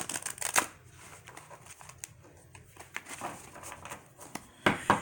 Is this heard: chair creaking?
no